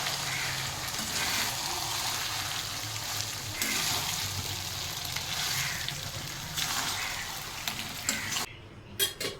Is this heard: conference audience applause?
no